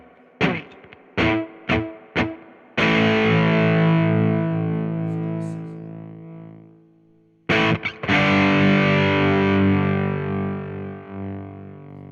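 Electric guitar played through a Boy Wonder Tone Bender MK1-style fuzz pedal built with NOS parts. Several short, choppy, gnarly fuzzed stabs lead into two long, thick sustained chords that decay with a sputtering, snarling tail.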